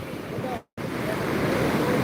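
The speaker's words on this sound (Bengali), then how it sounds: "সাগরের পানি এ ঢেউ চলে এসেছে" Ocean waves washing onto the shore at Cox's Bazar at night in light drizzle, a steady, close roar with wind noise; a brief silent gap interrupts it early on.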